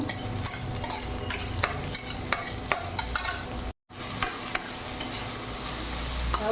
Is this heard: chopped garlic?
yes